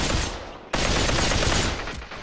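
Gunfire in the video game Population: One: loud, close bursts of rapid shots. A short pause gives way to a sustained barrage that continues to the end.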